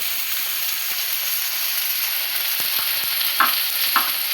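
Eggplant frying in oil in a home kitchen as turmeric powder is added, a steady hiss of sizzling with stirring scrapes and a few sharp clinks of a spoon near the end.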